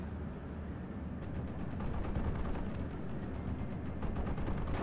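Cannon fire in a war strategy video game with infantry fighting vehicles, heard as sharp repeated booms and cracks over a dense, constant rumble of battle noise, loud and close with no talk.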